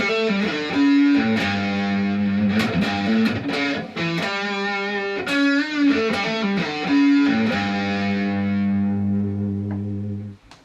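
Distorted electric guitar plays a pentatonic lick: a run of quick picked notes and bends that settles into a long sustained note ringing out at the end, loud and alone with no talking.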